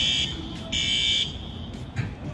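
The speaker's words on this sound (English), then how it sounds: "I don't know why there's an alarm going off." A store alarm beeps with a sharp electronic tone in repeated on-off bursts, some short and some held, loud and fairly near over faint background murmur.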